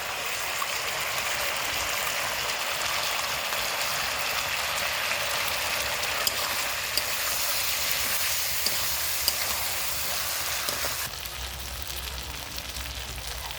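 Ground masala paste for mutton pulao sizzles in a hot pan, a steady, crackling fry that holds for the whole stretch and softens slightly near the end.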